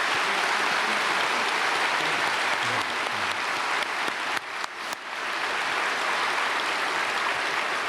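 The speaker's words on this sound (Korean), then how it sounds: "우리 권호동 목사님에게 박수 한번 하겠습니다." A church congregation at a Sunday service applauds a pastor, a broad, continuous roar of many hands clapping that dips briefly near the middle before carrying on.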